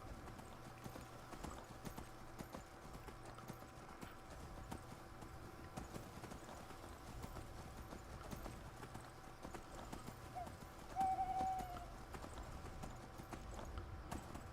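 Horse hooves clip-clop in a steady, even rhythm throughout, a faint continuous trot in the fantasy role-playing game Skyrim.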